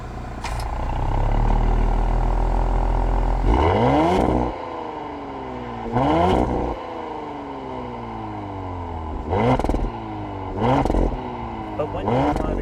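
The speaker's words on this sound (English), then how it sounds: "you really notice a lot more crackles and pops and a lot more vibrancy from the exhaust" A 2021 Audi SQ5 driving along, its engine droning and revving with several rising and falling surges in pitch as gears change, plus short exhaust crackle bursts between them; steady road and engine noise throughout, fairly close.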